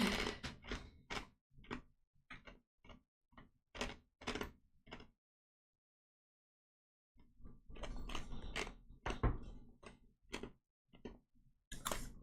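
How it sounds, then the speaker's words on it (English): Someone crunches on ice in bursts of crisp, close bites and chews, with a silent pause in the middle before the crunching resumes. "I hear munching. Yeah, I'm chewing on ice."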